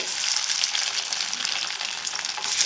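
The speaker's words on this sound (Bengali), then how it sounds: "এখানে আমি তেল গরম করতে বসিয়ে দিয়েছিলাম। এবার একটা একটা করে ডিপ ফ্রাই করে নেব।" Shaped homemade snacks deep frying in hot oil, a steady loud bubbling sizzle close by with no talking.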